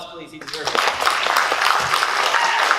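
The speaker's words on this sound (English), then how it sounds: "Give him a round of applause," Audience at an anime convention panel applauding a voice actor, a steady wash of clapping and cheers running under a voice throughout.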